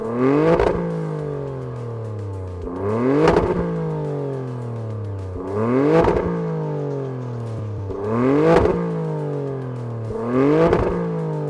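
An Alfa Romeo Stelvio Quadrifoglio's V6 engine revs hard five times in a regular rhythm, each sharp rise in pitch falling away before the next, loud and close.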